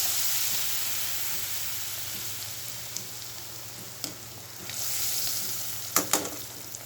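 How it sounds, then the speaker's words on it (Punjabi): Gram flour battered pakoras fry in hot oil with a steady, loud sizzling hiss, close up, broken by a few sharp pops and crackles near the end. "ਹੁਣ ਅਸੀਂ ਇਹਨਾਂ ਨੂੰ ਵੇਸਣ ਲਗਾ ਕੇ ਨਾ ਤੇ ਮੈਂ ਤੇਲ ਦੇ ਵਿੱਚ ਪਾਉਣ ਲੱਗੀ ਆ"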